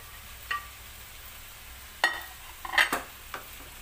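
Potato and carrot pieces stirred in a pan, a few scattered scrapes and clinks over a faint low sizzle, with sharper utensil strikes clustered near the end.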